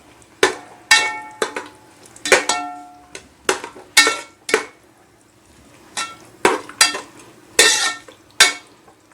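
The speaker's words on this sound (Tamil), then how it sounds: "நல்லா கிளறி விட்டுருவோம்." Biryani masala in a pot being stirred after tomato and a cup of yogurt go in, giving a series of sharp spoon-on-metal clinks and scrapes in irregular bursts, fairly close, with no talking.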